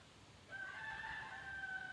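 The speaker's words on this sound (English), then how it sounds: "I see a rooster up there. Oh, I can hear him." A rooster crows once from a distance, a drawn-out call rising faint over quiet outdoor background noise.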